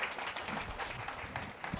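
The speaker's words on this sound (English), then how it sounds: "give them a round of applause" A conference audience applauds panel volunteers, a short burst of dense, fairly faint clapping heard from within the crowd.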